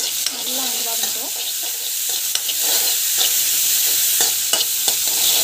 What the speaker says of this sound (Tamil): நல்லா வந்து வதங்கட்டும்